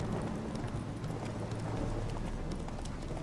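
Horse hooves clip-clopping steadily in the video game The Witcher 3: Hearts of Stone, a continuous close trot over a dense ambient game soundscape, with no voices.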